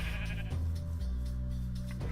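A Minecraft sheep gives a couple of loud, close bleats, one straight after the other, with soft game background noise and no talking over it.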